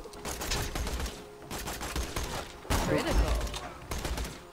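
Shotgun fire in the video game Borderlands, several loud blasts in bursts with gunfire clatter and game noise, a voice talking over parts of it.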